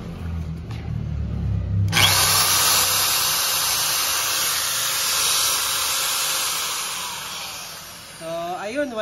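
An Inco power drill starts up after a low rumble and runs steadily for about six seconds with a loud, constant whine and hiss, then winds down, in a home DIY tool test.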